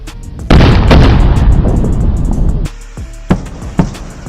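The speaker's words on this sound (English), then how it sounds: "when this happens, it creates sonic booms." A deep, loud boom rumbles for about two seconds, followed by two sharper cracks echoing in the distance.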